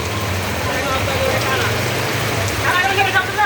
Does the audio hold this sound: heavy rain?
yes